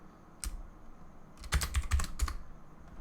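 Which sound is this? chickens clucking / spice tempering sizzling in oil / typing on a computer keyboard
typing on a computer keyboard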